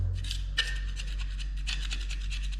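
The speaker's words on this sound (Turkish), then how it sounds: "bu şekilde kazıma yapıyoruz ki oradaki silikon çıksın diye uğraşıyoruz" Old silicone sealant being scraped off in a bathroom, a steady rapid rasping scrape repeated in short strokes, close and continuous over a low background hum.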